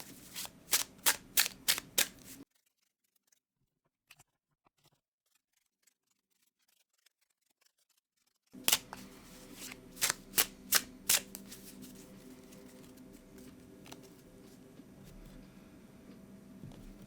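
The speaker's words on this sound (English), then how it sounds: "I'm going to go ahead and give the deck a really good shuffle for you." A tarot deck is given a vigorous riffle shuffle: several crisp, rapid card riffles up close, then a long silent pause, then another burst of riffles that settles into quieter card handling.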